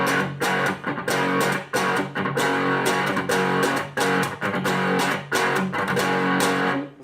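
An electric guitar plays a distorted power-chord rhythm riff from a rhythm guitar lesson, with loud, driving chords in choppy bursts and brief gaps between them, no talking.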